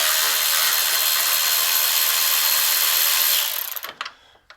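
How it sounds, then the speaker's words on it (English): A power tool spins loose the 8mm bolts on the lower intake of a Jeep Cherokee 3.2, a steady loud close whirring buzz for several seconds that cuts off, followed by a few small clinks and rattles. "it's just a matter of loosening all these bolts that are around, and then the lower intake will just come off"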